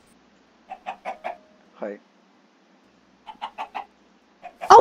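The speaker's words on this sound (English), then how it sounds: "Is that chickens?" Chickens in Minecraft cluck in short clustered bursts, several rapid clucks, then a pause, then another group, loud and close, with a brief word spoken between them.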